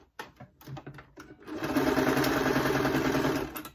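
Sewing machine stitching a bag lining: a few short needle bursts and starts, then a steady fast mechanical whirr running for about two seconds before stopping, close and clear with no talk.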